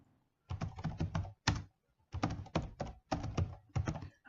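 Keys clack on a computer keyboard as a name is typed, coming in quick close bursts of strokes separated by short pauses.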